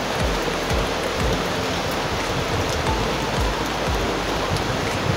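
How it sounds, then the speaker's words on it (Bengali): Heavy rain pours outside on a cloudy day, a dense unbroken hiss of falling water that stays loud and steady throughout, with no talk. "বলতে বলতেই বৃষ্টি চলে আসছে, প্রচুর বৃষ্টি হচ্ছে বাইরে।"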